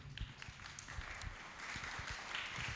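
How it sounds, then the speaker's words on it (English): Faint, scattered audience applause fills a hall after a talk on anti-corruption policy and reform, with irregular claps continuing at low volume throughout. "A round of applause to my team here."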